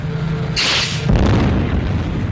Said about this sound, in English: Our fish have hit, sir, and one transport's blown up.